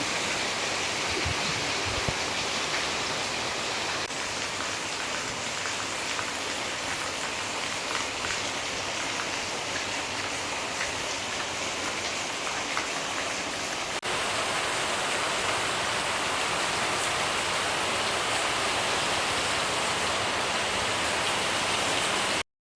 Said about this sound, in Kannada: ಅಷ್ಟರೊಳಗೆ ಮಳೆ ಕೂಡ ಸ್ಟಾರ್ಟ್ ಆಯಿತು